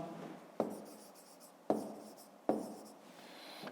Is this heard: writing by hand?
yes